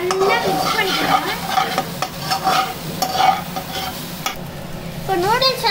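Beaten eggs are stirred into hot oil in a pan, a close sizzle broken by repeated scraping stir strokes, with a brief rising squeak of utensil against pan at the start and end.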